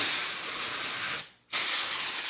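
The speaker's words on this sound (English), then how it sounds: "So you can use compressed air, clean out. See that spraying out of there?" Two loud, hissing blasts of compressed air cleaning out a slingshot, separated by a brief pause, spraying close by.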